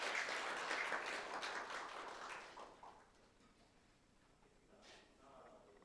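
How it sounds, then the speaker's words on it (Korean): Audience applause at a forum appointment ceremony, a crowd of hands clapping that is loudest at first and fades out within a few seconds, followed by near quiet with a faint sound later. "큰 박수 부탁드리겠습니다."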